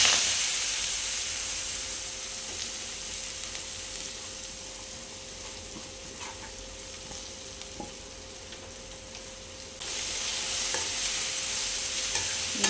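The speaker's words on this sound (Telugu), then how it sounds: "బాగా ఒకసారి కలుపుకొని మగ్గనిద్దామండి" A pan of spring onions with crushed garlic and turmeric sizzles steadily up close while being stirred, with occasional scraping clicks of the spoon and a brief rise in hiss near the end.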